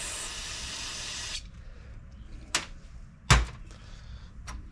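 A spray bottle hisses cleaner onto a Briggs and Stratton pressure washer with a 190cc engine for about a second and a half, close and fairly loud, followed by quiet with a few sharp knocks and clicks.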